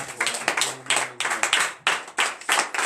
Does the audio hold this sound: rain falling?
no